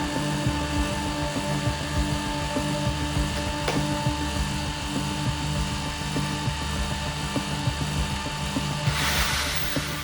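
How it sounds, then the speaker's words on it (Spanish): An electric drill powered by a Liberty Engine generator joins the steady mechanical drone, a continuous whirring hum with faint knocks, ending in a brief hiss of higher noise. "Ahora conectaremos de nuevo el taladro."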